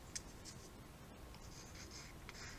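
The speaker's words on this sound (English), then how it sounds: "Wiping off the excess again." Finish being wiped off a cardboard-and-paper Estes Magician model rocket part, a soft continuous rubbing and scuffing heard close up and alone, with a few faint brisk strokes.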